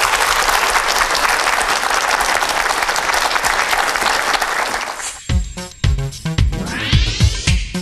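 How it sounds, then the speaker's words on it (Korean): Audience at a televised lecture bursts into loud, sustained applause that fills the first five seconds, then thins out into scattered claps and shuffling as the room settles. "힘찬 박수로 강연 청해 듣겠습니다."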